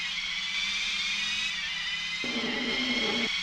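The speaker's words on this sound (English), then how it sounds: "all the car engines on my disc copy sound like a screwdriver about to run out of battery" A thin, glitchy whine of PS1 game car engines, steady and buzzing like a screwdriver running out of battery, with a sudden louder low drone kicking in near the end.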